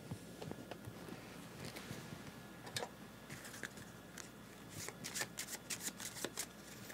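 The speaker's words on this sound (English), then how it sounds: "Madame Dubarry will shuffle" Playing cards shuffled for a solo game of the Rococo Deluxe Edition board game: a run of crisp riffling and snapping bursts, close and fairly loud, growing busier toward the end.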